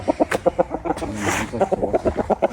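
Chickens and chicks cluck in a quick, steady series of short calls, close by, with a brief louder squawk midway.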